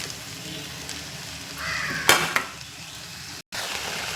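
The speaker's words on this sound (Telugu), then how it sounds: "ఇప్పుడు పాలకూర వేసేసుకుందాం" Spinach tossed into a pan of half-cooked brinjal curry, giving a soft steady sizzle that swells briefly with a couple of louder splashes and stirring sounds, then settles back to a low frying hiss.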